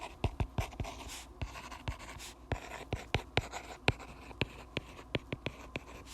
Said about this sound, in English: to write an expression